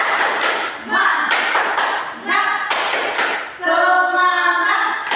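A group of teachers outdoors claps in rhythmic bursts for a cheer, with short clap patterns separated by pauses and some shouted voices near the end.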